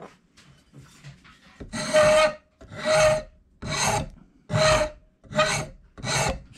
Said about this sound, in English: Take a wood file or a rasp.